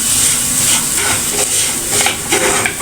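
Semolina (rava) roasts in ghee in a pan over low heat, giving a close, continuous soft sizzle and hiss with light scraping as it is stirred.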